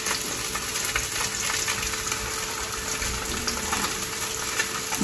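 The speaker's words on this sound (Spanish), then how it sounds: "los hemos enharinado y vamos a pasarlos a la plancha" Floured red mullet frying skin-side down in a very hot pan, a steady dense sizzle and crackle filling the whole stretch at close range with no pauses.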